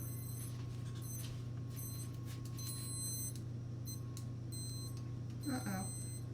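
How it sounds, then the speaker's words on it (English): A kitchen timer beeps in repeated high-pitched bursts during cookie baking, going on and off steadily over a low hum, with a voice speaking briefly near the end. "I cannot get that timer to stop beeping now."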